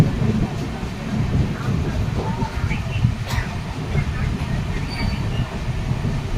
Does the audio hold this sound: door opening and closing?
no